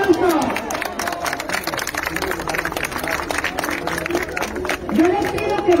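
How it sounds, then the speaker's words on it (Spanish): A crowd at a mayoral campaign rally claps and cheers, with lively applause running throughout under an amplified voice shouting to the audience. "¡Bravo! ¡Un aplauso!"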